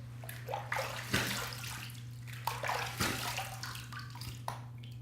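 Water splashes and sloshes in a sink while rinsing after a shave, with irregular gurgling bursts over a steady low hum, close and moderately loud, with no talk.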